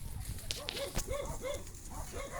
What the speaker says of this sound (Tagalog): Ayan, may aso pa.